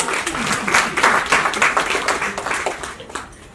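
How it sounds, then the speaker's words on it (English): An audience at a panel discussion on entrepreneurs and the Indian economy claps in a dense, fairly loud burst lasting a few seconds before tapering off, with faint voices mixed in. "I think we should really clap for him."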